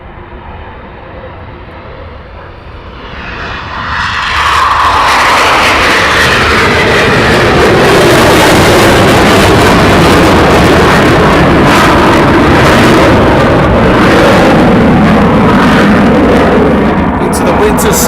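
RAF Eurofighter Typhoon jet departing at RAF Coningsby, a roaring jet engine that swells from a distant whine to a loud, sustained, rumbling blast as it takes off.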